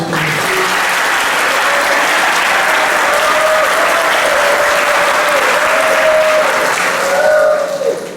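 A large church congregation claps loudly and continuously at a Mass, a dense wash of applause that holds steady throughout.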